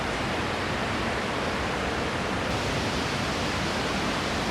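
A river rushes through a canyon in the Amazon, its flow a dense, steady roar that fills the whole stretch at constant loudness with no voices.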